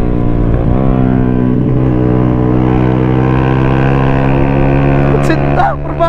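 A Kawasaki ZX-10R big bike's engine hums loud and near with a steady, rising harmonic whine, shifting pitch as it revs, with a brief sharp burst near the end.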